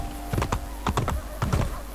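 Horse hooves clip-clop in a rapid, uneven trotting rhythm in the Assassin's Creed video game, set against a steady low game-ambience rumble.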